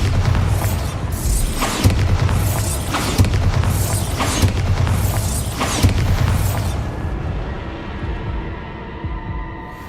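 Repeated Bombarda blasting spells in the game Hogwarts Legacy boom in a rough, throbbing series of heavy impacts roughly every second, then cut off into a quieter low rumble near the end.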